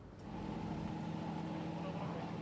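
A classic car engine at an outdoor car show, a steady low rumbling drone that holds close and loud throughout, with a brief lift in level early on.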